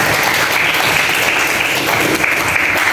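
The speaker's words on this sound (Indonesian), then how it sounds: "Kita beri tepuk tangan untuk kelompok 3." A classroom applauds a student group after its discussion presentation, with loud, continuous clapping from many students that stays steady for a few seconds, with little talking.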